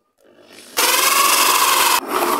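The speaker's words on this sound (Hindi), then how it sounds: "ये होल सा इसके अकॉर्डिंग आ रहा है तो हम इसको ड्रिल मशीन में लगा लिए हैं" Hole saw on a drill machine cutting through a thin metal oil tin, a loud steady grinding rasp that starts abruptly after a faint motor whir, holds for over a second, then drops back to the spinning drill.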